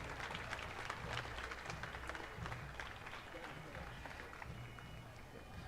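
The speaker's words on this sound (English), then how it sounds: "Please give them a big round of applause" An outdoor crowd at the Toowoomba Carnival of Flowers Grand Central Floral Parade applauds with a faint, scattered clatter of hands under steady low background rumble and murmuring voices.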